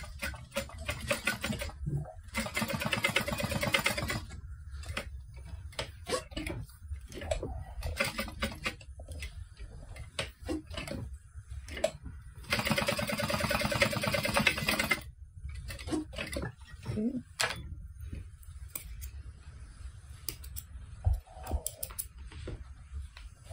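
A sewing machine topstitching a fabric bag, running in several sustained bursts of rapid mechanical stitching with short pauses and small handling clicks between them.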